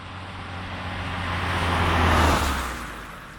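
A 1980s Renault 5 GT Turbo hot hatch is driving by, its engine noise and road rumble swelling to a peak and then easing off as it passes.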